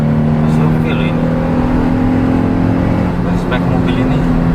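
Suzuki Jimny JB74 engine held at high revs above 4000 RPM, a steady loud drone heard from inside the car with no breaks, while a person speaks over it.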